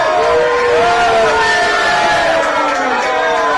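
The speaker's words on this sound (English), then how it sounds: "you can hear the crowd" Spectators at a women's over-40 international hockey final, Singapore against Hong Kong, shout and cry out together in a loud, continuous crowd roar, with overlapping voices rising and falling throughout.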